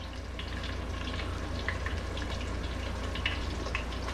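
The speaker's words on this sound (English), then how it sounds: "we want to bring it to pretty much a boil, sort of a calm boil" Kung Pao sauce for cauliflower comes to a calm boil in a pan, a steady low bubbling hiss with faint popping that runs evenly throughout, no voices over it.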